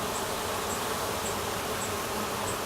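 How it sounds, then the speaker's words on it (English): A swarm of bees crowding the entrance of a hive box gives off a dense, continuous buzzing hum that stays close and steady throughout. "you can see the bees running in the entrance quite nicely"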